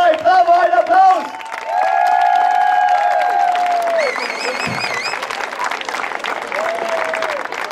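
Crowd applause and cheering at a Banat church fair (Kirchweih) during a festive auction, with brass band tones at the start and people calling out amid the noise.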